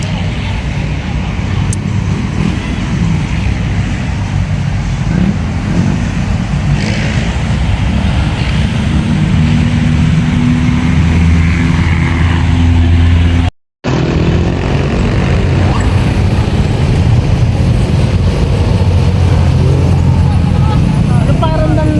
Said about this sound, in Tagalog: grabe ang traffic yan.